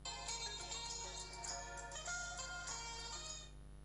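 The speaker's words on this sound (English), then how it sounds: "this is my ringtone here" A custom iPhone ringtone plays as a bright, steady electronic melody with sustained tones throughout, stopping abruptly near the end; no one speaks over it.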